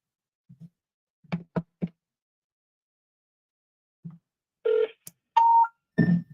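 A telephone cold call: a few short key tones and knocks of dialing, then a gap, then brief electronic tones and a ring on the line, with no talking.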